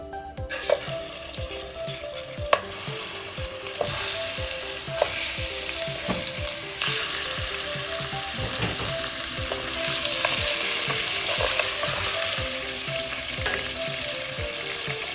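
Meat frying in olive oil in a pot for Moroccan couscous, a loud continuous sizzle and crackle with repeated clinks and scrapes of stirring throughout.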